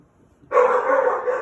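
Dogs bark from a room behind a veterinary handling space, one loud drawn-out bark carrying for about a second after silence.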